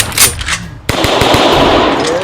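Rapid automatic gunfire from a war video game, a dense burst of shots at close range following a brief quieter stretch, with some voice mixed underneath.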